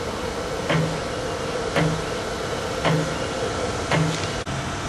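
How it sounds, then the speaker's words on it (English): An ACER Supra-618IIASD surface grinder table feeds back and forth, with a rhythmic mechanical thunk about once a second over a steady machine drone, recurring four times. "Feeding on table movement on both sides."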